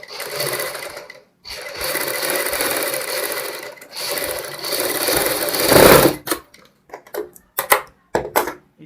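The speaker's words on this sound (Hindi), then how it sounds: "बुकरम के साथ साथ हमने सिलाई लगानी है।" Sewing machine stitching piping onto buckram for a blouse back neck, running in long steady whirring stretches with short stops, then giving way to a few brief clicks and handling knocks.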